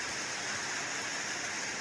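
Rain falling in rural Isan, northeast Thailand, a steady, even hiss of water that holds at the same level throughout with no voices.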